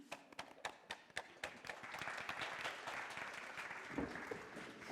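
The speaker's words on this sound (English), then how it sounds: "Clap if you believe." A theatre audience at a stage show claps, with a few loud separate claps at first that swell into sustained applause.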